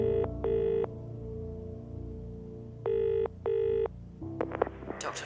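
A telephone in a radio drama: a handset rings in two pairs of bursts, then dialing clicks and tones follow near the end, close and clear with no talking.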